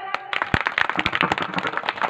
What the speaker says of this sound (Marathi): पुरुष वर्ग टाळी वाजवा बरं.